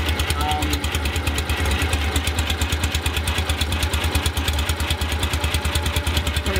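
Volkswagen flat-four engine fitted with dual 48 Weber carburetors and an A1 exhaust idles close by, a steady loud rhythmic chugging pulse that runs unbroken throughout.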